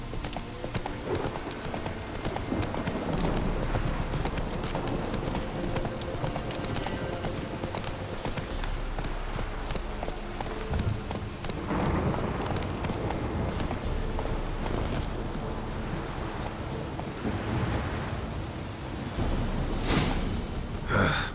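A horse gallops in The Witcher 3: Wild Hunt, with continuous rhythmic hoofbeats over a steady bed of game ambience and a few breathy snorts, lasting the whole stretch without talk.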